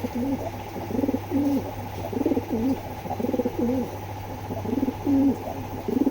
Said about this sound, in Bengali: কবুতর দুটা বাইরেই ছেড়ে দেখাই